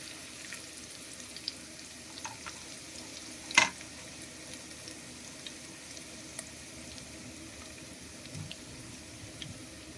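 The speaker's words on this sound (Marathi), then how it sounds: "कांदा घातलेला आहे. आता आपण परतून घ्यायचा." Chopped onions with cumin sautéing in a pan for chicken biryani gravy, a soft steady sizzle with a few faint clinks and one sharper knock partway through.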